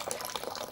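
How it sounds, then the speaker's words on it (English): Liquid pours and trickles steadily from a brewing kettle being drained for the second sparge on a stout brew day, a brief close gurgling flow. "drain the kettle for the second sparge"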